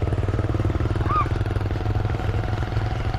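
Motorcycle engine running steadily nearby in a Vietnamese village, a low chugging drone with a fast regular pulse, moderately loud throughout with little change in pitch.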